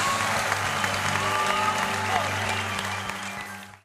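Church congregation applauding in a lively worship setting, a dense steady wash of clapping with sustained tones and voices mixed in, continuing loud before cutting off abruptly at the end.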